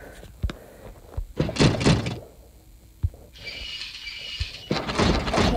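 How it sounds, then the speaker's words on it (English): Knocks and thuds on a door in a house, a few sharp hits spread over several seconds, with rustling and movement noise between them and no talking. "Knock, knock."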